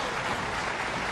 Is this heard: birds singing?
no